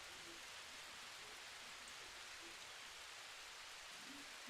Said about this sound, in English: let me check my volume because this rain sound loud